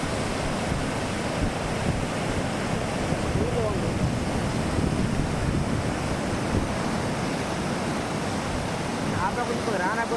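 Sea waves surge and wash continuously where a river mouth meets the sea, a loud broad roar mixed with wind buffeting the microphone, with faint voices underneath.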